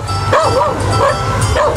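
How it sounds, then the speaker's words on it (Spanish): A dog yips and barks amid a celebration in a park, several short excited yelps in quick succession, close and loud over a busy crowd background. "Hasta el perro, trajeron la mascota."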